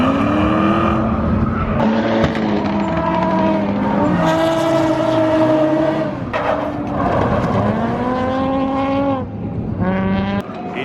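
At a drift event, 600+ whp drift cars scream through tandem runs with loud, sustained tire squeal and roaring engines that rise and fall in pitch, close and continuous.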